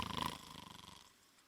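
A preacher imitates a man snoring, giving a short run of rhythmic, raspy snore pulses that fade out within about a second.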